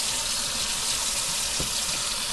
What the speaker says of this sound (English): now wash your hands